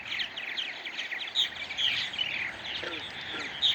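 A flock of purple martins chatters in a busy, continuous stream of bright chirps and warbles, fairly close and with no one talking.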